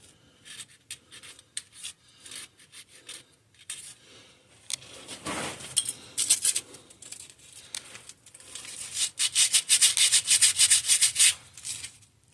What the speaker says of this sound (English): I'm trying to scrape more of the grease off.